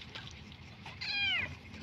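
A cat gives a single drawn-out meow, close and clear, over faint background room noise.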